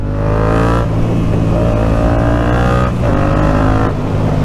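A Yamaha MT-07 motorcycle engine revs loudly and holds at high rpm, dipping briefly and climbing again, close up and alone without talk.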